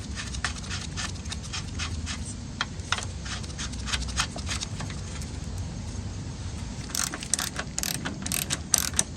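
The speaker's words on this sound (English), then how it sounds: "8 millimeter socket is what I'm using here." Quick ratchet clicks from an 8 millimeter socket loosening hose clamp bolts during a throttle body replacement on a Dodge Avenger, close bursts over a steady background rumble, busier toward the end.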